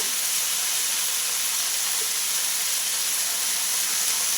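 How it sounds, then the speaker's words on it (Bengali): Red amaranth greens stir-fried with dry chillies and nigella seeds in hot oil, giving a steady, loud hiss that runs unbroken throughout, with no distinct stirring strokes and no talking. "শাকগুলো দিয়ে দিলাম এবার নেড়ে ছেড়ে নেব"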